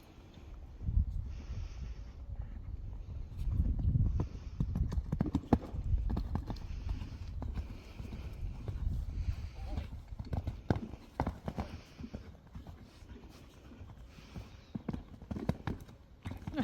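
A horse's hooves clip-clop in a steady, rhythmic gait on firm ground during a jumping lesson, fairly close, with occasional snorts and some brief muffled noises.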